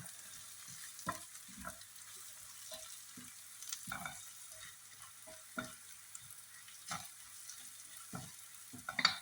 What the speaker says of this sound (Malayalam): ഇനി നമ്മൾ ഈ ചുവന്ന മുളക് ഫുള്ളായിട്ട് ഇട്ട് കൊടുക്കുന്നുണ്ട്